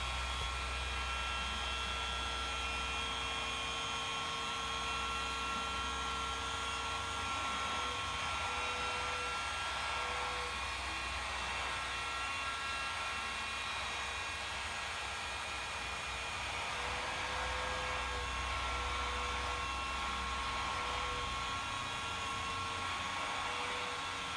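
A rotary polisher with a wool pad corrects damaged Corvette clear coat, giving a steady, loud whirring drone that holds unbroken for the full length, with no speech.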